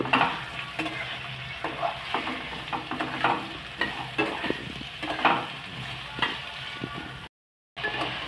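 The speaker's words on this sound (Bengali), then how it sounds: "মিনিট 2 তেলে ভালো করে ভেজে" Pieces of ash gourd frying in hot oil, stirred again and again, so a loud sizzle keeps surging with each scrape of the spatula, then stops briefly near the end.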